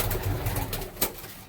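Flying pigeons of the Madrasi and Punjabi breeds coo softly up close in a brief, continuous burst, with a sharper rustle partway through.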